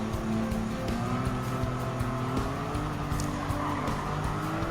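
A Porsche 959 from the 1980s driven hard in Gran Turismo 7, its steady engine drone held close with tires squealing through a corner, continuous and loud for the whole stretch.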